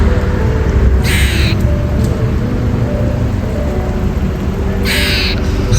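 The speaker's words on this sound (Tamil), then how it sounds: "நான் அதோ பறவை தான் கட்டுதுன்னு நினச்சேன். இல்லை, அணில் தான் கட்டுது." A squirrel calling outdoors, two sharp high chirping bursts a few seconds apart, riding over a loud, steady wash of background noise.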